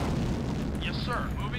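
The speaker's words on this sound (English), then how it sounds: "You can't withstand that bombardment for forever, can you?" Artillery bombardment in the real-time strategy game Command & Conquer: Dawn of Tomorrow, a continuous dense rumble of booms and bursts with game chatter tones layered on top.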